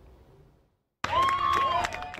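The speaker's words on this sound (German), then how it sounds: "Mit Applaus wird die deutsche Kapitänin in der Nacht auf der Insel empfangen." A crowd at night on an island harbour welcomes the German Sea-Watch 3 captain with applause and cheering, bursting in loudly after a near-silent pause, with voices mixed into the clapping.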